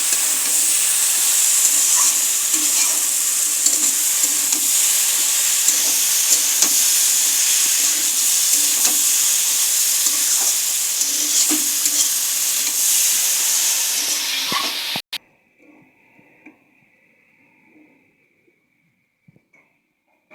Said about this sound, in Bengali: তারপর আগে থেকে ভেজে রাখা সয়াবিনগুলো দিয়ে দিলাম। সেগুলো পুরোটা মিক্সড করে করতে হবে।